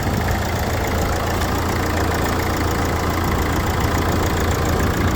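A used car at a weekend car market idles with its engine compartment open, a steady close mechanical hum with a faint knocking rhythm running evenly throughout.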